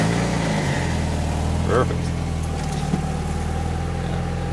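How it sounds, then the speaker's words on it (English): A 1991 Mazda Miata MX-5 engine idles steadily up close after a cold start, holding an even mid-pitched hum with small fluctuations, as someone speaks briefly over it. "now we're going to turn it on and make sure she starts and make sure she's running properly"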